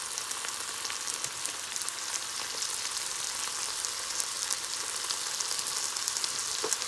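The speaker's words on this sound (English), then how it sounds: "So now you have to mix the chicken well with the onions and the garlic." Chicken sizzles and fries in a pan with onions and garlic for a biryani, a steady hiss of frying with faint stirring scrapes throughout, close and even, no talking.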